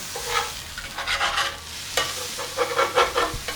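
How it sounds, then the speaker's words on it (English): A beef burger patty fries on a hot griddle for an Animal Style burger, with a continuous close sizzle broken by repeated scraping strokes of a spatula. "We're going to start to flip our patty."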